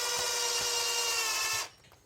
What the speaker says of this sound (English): Oh, you're using the drill for that.